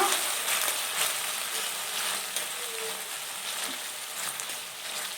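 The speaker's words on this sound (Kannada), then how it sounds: "ಟೊಮೆಟೊ ಸಾಸು, ಸೋಯಾ ಸಾಸು ಇಷ್ಟು ಹಾಕ್ಕೊಂಡು ಒಂದು ನಿಮಿಷ ಫ್ರೈ ಮಾಡ್ಕೊಳ್ಳೋಣ" Baby corn frying with tomato sauce and soy sauce gives a steady, fairly loud sizzle with some faint stirring scrapes, and no voices.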